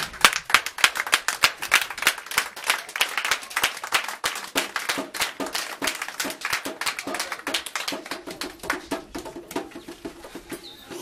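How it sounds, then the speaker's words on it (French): A church congregation applauds in steady, lively rhythmic clapping that carries on for the whole stretch, loud at first and easing slightly toward the end, with no voices. "On se lève tous et toutes pour l'acclamer."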